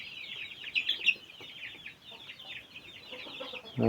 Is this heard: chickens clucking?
yes